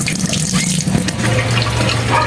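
Water running and trickling steadily from freshly washed chayote and carrots as they drain, a continuous close splashing flow with a faint low hum underneath.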